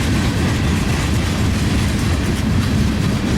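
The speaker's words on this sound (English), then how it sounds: "CSX salt train" A CSX freight train hauling salt rumbles past in a below-zero winter snowstorm, a loud, close, continuous heavy roar with rolling rail clatter and no pause.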